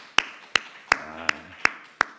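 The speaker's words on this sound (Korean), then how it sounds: "우리 축하에 박수 한번 합시다" Sharp, evenly spaced claps ring out six times in a church during a congregation's celebratory applause, each a crisp single slap with a short echo, while a faint low voice murmurs briefly underneath.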